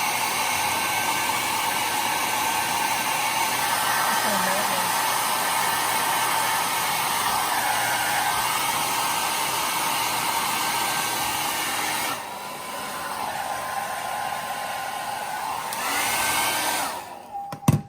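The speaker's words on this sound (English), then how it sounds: "And then I get the hair dryer and warm it up a little bit." Hair dryer warming an infant's ostomy bag, a loud steady whooshing blow with a whining motor tone, running continuously at close range, briefly dipping partway through before switching off at the end.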